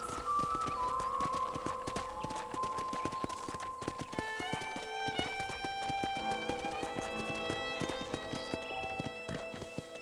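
Steady clip-clop of horse hooves at a walking pace in Red Dead Redemption, rhythmic and close, over layered melodic music with bright sustained tones.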